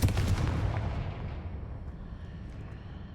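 A Confringo blasting spell cast in Hogwarts Legacy, a loud explosive boom at the start that rolls away into a long, fading rumble and hiss, with no voices over it.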